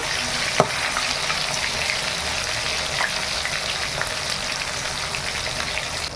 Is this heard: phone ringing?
no